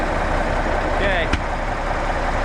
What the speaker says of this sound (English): got the truck running, got our logs loaded up